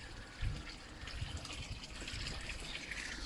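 A 3,500 litre per hour pond pump keeps water running in a steady trickle and gush, faint and continuous, with a small splash near the start.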